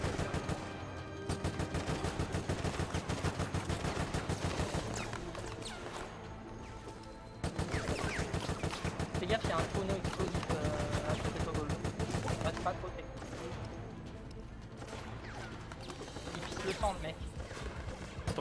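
Rapid bursts of automatic gunfire from a zombie-shooter video game, Resident Evil: Operation Raccoon City, rattling in long sustained volleys with brief pauses, loud and close, with voices talking underneath.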